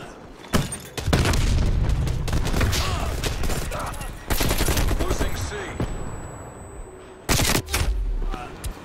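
AK-47 fire in the Black Ops Cold War game, rapid automatic bursts and heavy booming shots in loud clustered volleys separated by brief gaps.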